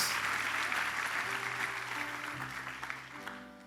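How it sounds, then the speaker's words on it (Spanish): A church congregation breaks into strong applause for the Lord during a sermon, a dense, steady clapping that slowly fades with a low musical tone under it. "Denle un fuerte aplauso al Señor por el evangelio."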